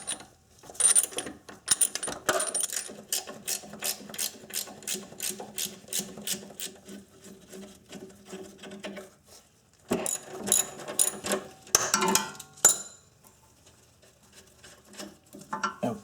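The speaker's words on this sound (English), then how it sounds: "it's actually a little bit easier if we use a socket and a ratchet" Socket and ratchet turning the nut on a car's sway bar link, a rapid run of close, crisp ratchet clicks that pauses, then a second shorter burst of clicking with some handling noise.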